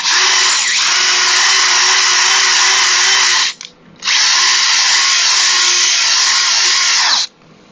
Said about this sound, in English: So I use these disc brake honing tools